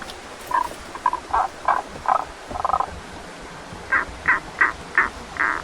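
A frog croaks in a rhythmic series of short calls, pausing briefly before a second run of five evenly spaced croaks, close and clear.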